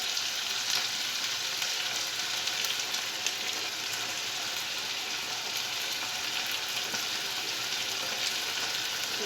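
Tomato coulis sizzling steadily in a frying pan for a seafood-free paella, with a continuous bright crackle and occasional soft stirring scrapes, close and even throughout, no talking.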